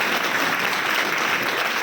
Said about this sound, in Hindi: तो जोरदार तालियां आरसीएम की साड़ी के लिए